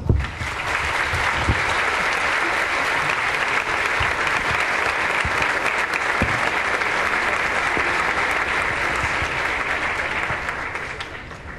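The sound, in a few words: applause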